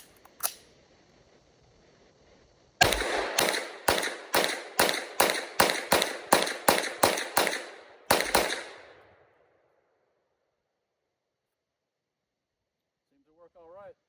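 A MAC IV firearm fires a rapid string of about eleven loud, sharp reports in an even rhythm, then a short pause and two more shots, with the echo fading out into near silence afterward.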